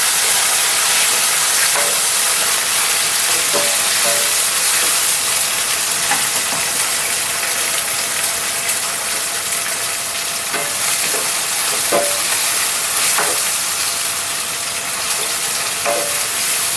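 Tomatoes added to fried onions in a pan for chicken curry hiss and crackle loudly and without a break. Faint ticks of the spoon against the pan surface now and then through the dense sizzle.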